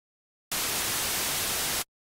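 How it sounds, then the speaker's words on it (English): A burst of harsh, hissing white noise from a SynthMaster One synthesizer starts abruptly, holds steady for over a second, then cuts off cleanly into silence. "Make sure it's in sub mode and choose white noise."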